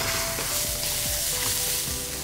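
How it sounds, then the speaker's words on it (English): Chinese sausage and onion sizzle loudly and continuously as they are stir fried in a hot wok for fried rice, with the scrape of stirring beneath the frying. "give that sausage some time to get some color and some char on it. Good stir frying or good fried rice making is all about the time and temperature in the wok."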